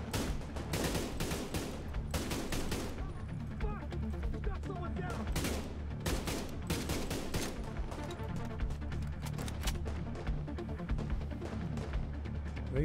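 Gunfire in the video game The Division 2: dense, continuous volleys of rapid shots and bursts, with some nearer and some more distant, and talk mixed in under the shooting.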